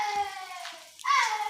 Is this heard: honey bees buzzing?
no